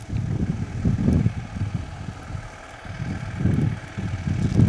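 A tractor that has just delivered split firewood in snow idles nearby, a low rumbling engine that swells and eases in slow pulses under some wind noise, with no talk.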